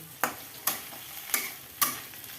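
Chopped vegetables and potatoes frying in a pan, stirred with four sharp, evenly spaced scrapes over a continuous close sizzle.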